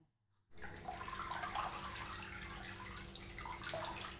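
Water suddenly begins to rush and gurgle after a brief silence, a steady close-up flow as soapy water from washing clothes empties down a hotel sink drain.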